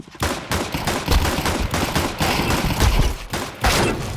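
Loud, rapid gunfire in the online shooter Wolfteam, dense bursts of automatic shots packed together with brief gaps, close and unbroken by speech.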